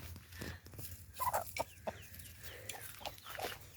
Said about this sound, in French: On arrive aux poules, on vient les voir si elles vont bien.